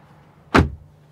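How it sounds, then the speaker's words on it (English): The rear door of a 2024 Mercedes GLC Coupe AMG shuts from inside the back seat with a single solid, deep thud that dies away quickly into quiet cabin air. "we can close the door"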